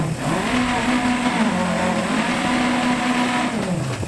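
A rally car engine with an engine issue drones loudly and steadily, revving slightly under load during a stage in the Australia championship of DiRT Rally 2.0. The pitch stays fairly even before dropping away at the end.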